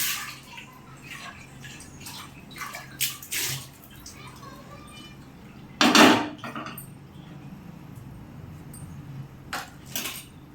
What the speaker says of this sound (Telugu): నీళ్ళతో వాష్ చేసేసుకొని